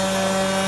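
A cordless DeWalt random orbit sander runs at full speed, giving a steady, loud buzzing whine with a constant tone, close by and with no voices.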